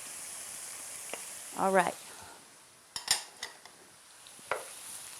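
Matchstick-cut carrots sizzling faintly in a pan next to beef for japchae, with a soft steady fry under sharp clinks of utensils against the pan and a brief spoken word.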